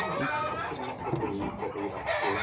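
A chicken clucks and squawks close by while a person talks over it. Both continue throughout the short stretch.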